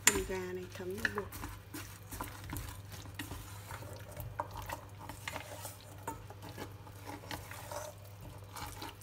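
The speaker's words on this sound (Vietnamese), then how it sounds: "Để đảo vào cái phần gà này thấm vào bột." Chicken pieces are tossed and stirred in flour in a bowl for Korean fried chicken, giving faint, continuous scraping and clinking with soft rustles, low and close over a background hum.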